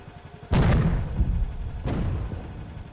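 A tank in the video game Fleeing the Complex fires twice, about a second and a half apart. Each shot is a loud, sharp boom with a rumbling decay.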